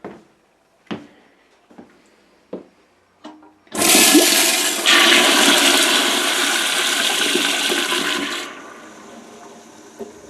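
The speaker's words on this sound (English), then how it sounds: "we can flush it again, and you can hear the tank how much faster it fills up" A toilet flushes in an off-grid home's emergency water system, a loud sustained rush of water lasting several seconds and then easing into refill, preceded by a few short clunks and taps.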